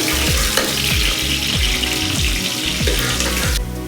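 Onion fries in oil until golden brown, a steady close sizzle that cuts off near the end, with music playing alongside.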